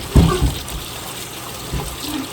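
Cold well water runs from a tap at a rural Pennsylvania rental, a steady broadband rush with a couple of low thumps near the start and another near the end.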